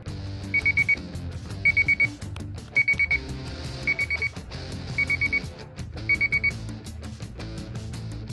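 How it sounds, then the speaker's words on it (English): A brew day timer alarm goes off in a shed during home beer brewing, sounding six bursts of rapid electronic beeps at a steady rhythm over low background noise. "In about 2 minutes, the alarm's going to go off."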